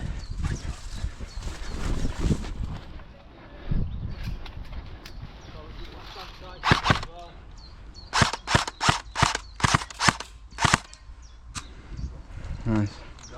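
Airsoft guns fire outdoors during a game session, a volley of sharp snapping shots in quick bursts, the loudest run clustered near the end, with people talking and calling to each other in between.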